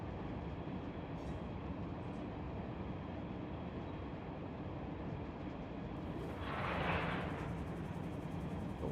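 Freight train locomotive in the Run 8 train simulator game, a steady loud rumbling drone of engine and rolling wagons throughout, with a brief hissing burst near the end as the locomotive brake is applied.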